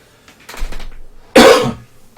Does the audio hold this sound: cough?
yes